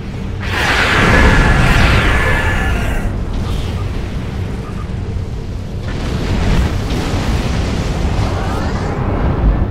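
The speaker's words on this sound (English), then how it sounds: "Look, I'll do a torpedo spread." A torpedo spread detonates in the space video game Star Trek Online during a fight with a Tholian Orb Weaver, giving loud, continuous rumbling booms and whooshing blasts that roll on for several seconds.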